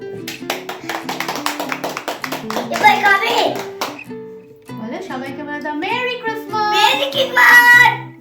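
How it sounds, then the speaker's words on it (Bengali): Children clap their hands during a Christmas celebration: sharp, rapid claps in the first couple of seconds, then young voices singing and chattering loudly over the rest. "আচ্ছা, হাততালি দাও।"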